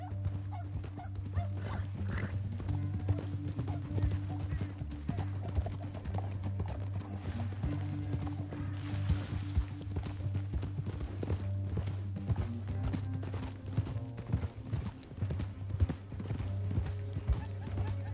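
Horse hooves clop rapidly and steadily throughout in the video game Red Dead Redemption 2, over a sustained low droning tone, with occasional faint animal noises mixed in.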